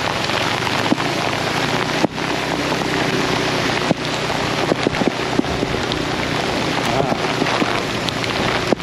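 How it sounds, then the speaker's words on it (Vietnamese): Heavy rain pours down on Nguyen Hue walking street in Saigon, a loud, constant hiss of drops hitting the pavement with some wind buffeting and sharp knocks scattered throughout. "Mưa lớn rồi bà con."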